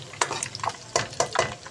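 Tadka tempering with eggs frying in a pan for dhaba-style moong masoor dal, stirred so the contents scrape and clatter in short bursts over a soft steady sizzle, close and moderately loud.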